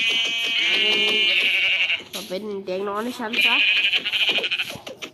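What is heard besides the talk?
sheep bleating in video game Minecraft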